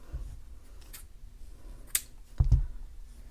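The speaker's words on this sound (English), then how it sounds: "Okay, cut your yarn." Scissors snipping crochet yarn, a couple of quick sharp clicks and a soft crunching cut close up, brief and separated by quiet.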